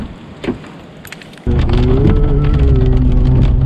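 Rain falling in Milford, New Zealand, starting abruptly as a loud, dense, steady downpour after a quieter opening with a few scattered sounds.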